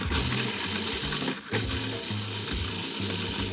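Graham crackers are ground into crumbs in a machine, a loud continuous mechanical whir with rhythmic pulsing chops, briefly dipping midway before resuming.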